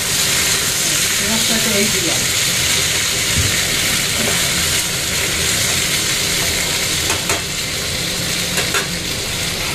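Food frying in a pan in a home kitchen, a loud, continuous close-up sizzle and hiss with occasional small knocks and clatters.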